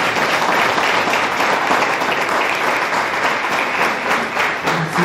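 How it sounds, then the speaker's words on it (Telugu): A church congregation at a Telugu Sunday service claps loudly and steadily together to welcome guests, a dense, sustained wash of applause with no break. "ఒకసారి సాయి సంఘం అంతా కూడా కలిసి గట్టి చప్పట్లు కొట్టి వారిని ఆహ్వానించాం."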